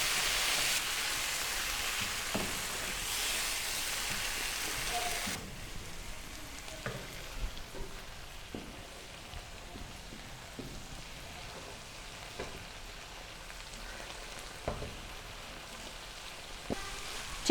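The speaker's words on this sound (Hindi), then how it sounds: "चिकन को हमने दही में 3 से 4 मिनट मीडियम फ्लेम पर भून लिया है।" Chicken sizzles in yogurt in a pan over a medium flame, a soft steady frying hiss with occasional light clicks and spatters, heard close and fairly quiet with no talk.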